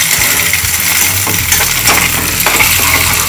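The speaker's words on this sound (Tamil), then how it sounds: "பீன்ஸும் கேரட்டும் அதை நம்ம சேர்த்துக்குவோம். சேர்த்து இதோடு நல்லா வதங்கணும்" Beans and carrots stir-fried with onion and egg for egg noodles: a loud, dense sizzle with a steady background rumble and scattered scraping clatter from stirring.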